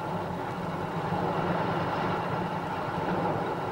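A train travels steadily, giving a continuous, moderately loud rumble with no breaks and no one talking.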